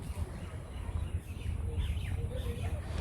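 Birds call softly along the Powai lakeside nature trail in Mumbai, with faint chirps over a steady low background rumble.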